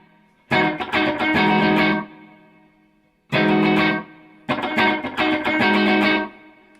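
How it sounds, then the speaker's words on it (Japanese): Guitar played through a BOSS DM-2W analog delay set to a short delay time: three bursts of strummed chords with quick, tight repeats thickening each one, separated by silences. "リピートレートですね、いわゆるディレイタイムを短くしてあげますと"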